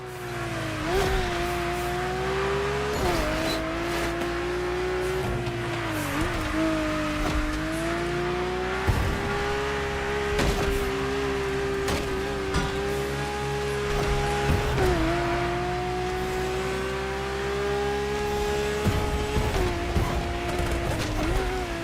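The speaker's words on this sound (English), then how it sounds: "Your drift car is powerful as hell. With so many horses, they'll try to run wild with every acceleration." Powerful drift car in The Crew Motorfest racing game revving and accelerating over a steady engine drone, with tire squeal and shifting pitch sweeps throughout, loud and continuous under game music-like tones.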